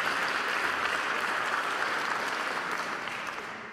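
An audience applauds a choir in a dense, steady burst of clapping and cheering at a Martin Luther King Jr. keynote event, fading slightly toward the end.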